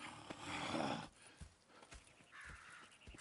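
Horses' hooves clip-clop while a horse neighs in the video game Red Dead Redemption 2, fairly close and moderately loud, with no talking.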